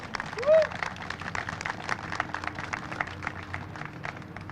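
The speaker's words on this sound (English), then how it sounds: "So let's give them a big round of applause." Audience applause at an outdoor flagpole dedication, scattered steady clapping at moderate distance, with a brief whistle-like tone near the start and a faint murmur of voices beneath.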